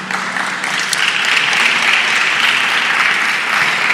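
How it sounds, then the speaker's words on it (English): An audience at a Mediterranean climate adaptation forum applauds the speakers, a steady, dense clapping that holds evenly for several seconds with no talking over it. "we'll give them a round of applause"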